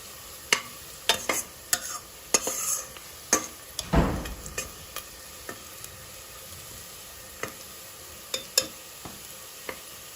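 Chicken for Hyderabadi dum biryani frying in oil in a pan, a steady sizzle broken by repeated sharp scrapes and clinks of a spoon stirring, with one heavier rustling stir midway; no talking.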